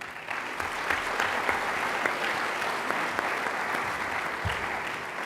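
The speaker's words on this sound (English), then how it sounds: "let's give those students a round of applause" A high school senior awards audience claps for honored students, a broad, even roar of many hands sustained at moderate loudness throughout, with scattered sharper claps standing out.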